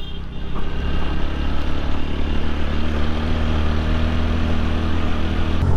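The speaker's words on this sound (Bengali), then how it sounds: "বাইকের স্পিড বাড়াই দিয়েছি আমি" A motorcycle engine drones steadily and close on a road trip near Cox's Bazar, a constant loud motor hum with a low rumble and no clear rise in pitch.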